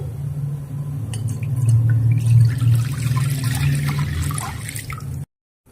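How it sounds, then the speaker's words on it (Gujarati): Water pours steadily into a pan in a home kitchen, a continuous splashing stream lasting about five seconds before stopping abruptly, close and fairly loud with no talking. "હવે એક પેનમાં આપણે પાણી લઈ લઈશું"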